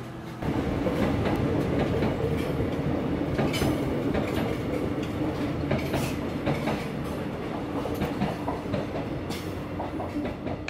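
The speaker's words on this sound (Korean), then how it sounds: "기차 소리가 더욱 운치 있었던 곳." A train rolls past near a Korean pork gukbap restaurant, giving a steady, loud rumble with rhythmic clickety-clack wheel sounds and brief squeals throughout, with no talking.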